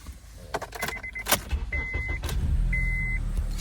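A 2006 Honda Accord with a 2.4L engine starting: a few key and switch clicks, then a brief cranking whine and a steady low engine idle that builds and settles, close and clear, with faint high electronic tones.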